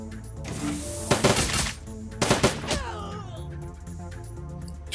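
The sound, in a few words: turret gunfire in Dragonfall video game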